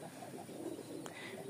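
Giribaz pigeons from Rajshahi cooing softly in a low, steady murmur close by, with a brief sharper sound near the end and no talking.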